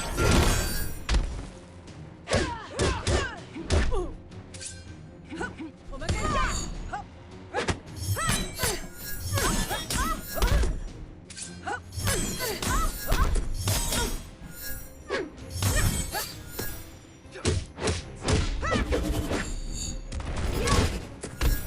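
Jade's bojutsu staff strikes in the mobile fighting game Mortal Kombat Mobile, a long run of sharp cracking and thudding hits arriving in quick rhythmic clusters with brief pauses between combos, loud and close, with a player's voice talking at times.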